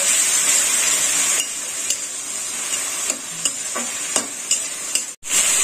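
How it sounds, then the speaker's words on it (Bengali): Onion paste frying in oil in a pan for sabzi chawal gives a loud, steady hiss that eases slightly after a second, with a few sharp clicks and scrapes of stirring, heard alone with no talk. "পেঁয়াজটা একটু লাল করে ভেজে নেব।"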